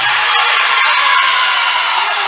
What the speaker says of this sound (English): you can hear behind me the crowd not pleased with that decision